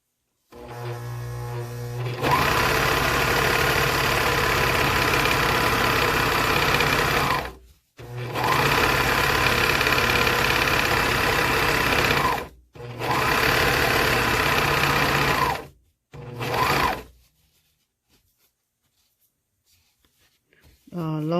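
A serger overlocking the seams of a small dress as it is resized, running in three long continuous bursts with short pauses between, then a brief final spurt before falling quiet.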